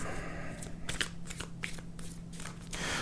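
Tarot cards are shuffled close up in a quick series of soft riffling flutters over a low steady hum, with no talk.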